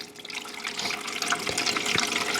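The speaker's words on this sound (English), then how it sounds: "take some filtered water right here. I'm going to pour it right on in" Filtered water pours into a mini bullet ice machine, a steady close splashing trickle filling the reservoir, with no talking.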